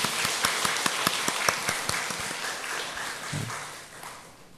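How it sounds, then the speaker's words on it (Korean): A church congregation at a Wednesday mothers' prayer meeting breaks into loud applause, a dense mix of many hands with a few sharp distinct claps early on that gradually thins and fades toward the end. "우리 한번 크게 박수하겠습니다"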